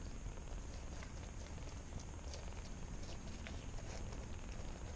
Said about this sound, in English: Which is surprising with these Kittens. They're purring.